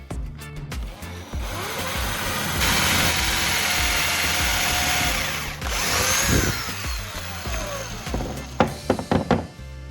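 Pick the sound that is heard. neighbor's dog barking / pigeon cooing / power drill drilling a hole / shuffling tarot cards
power drill drilling a hole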